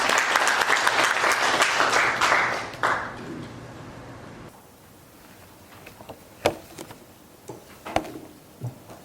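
Applause at a university general-education council summer workshop as the council president is welcomed to the stage, loud dense clapping for several seconds that fades to a few scattered claps and light noises.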